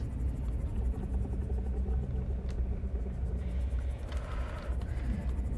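Dark ambient zone music from the Blood Kelp area of the video game Subnautica: a dense, low, rumbling drone with faint pulsing texture and occasional higher shimmers, steady and moderately quiet throughout, with no talking.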